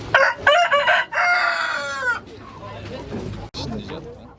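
A rooster crows loudly and close at a poultry market, a rising, wavering call over clucking hens, followed by quieter market bustle with voices talking in the background.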